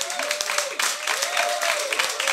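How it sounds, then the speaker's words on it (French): A studio audience at a live broadcast claps for partner media, producing a dense, steady round of applause with a faint sustained tone running beneath it for a couple of seconds. "nos partenaires, qu'on peut applaudir quand même"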